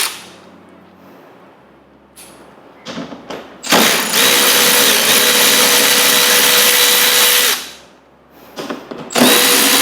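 A power drill backs two 10 mm bolts out of a car splash guard, with short trigger bursts followed by one long loud whirring run of about four seconds and another burst at the end, amid quiet handling noises.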